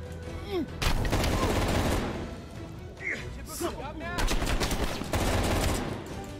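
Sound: gunfire in the video game Call of Duty Cold War

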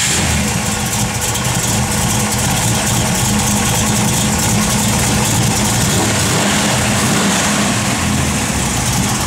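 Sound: 1971 Plymouth Cuda engine started and idling

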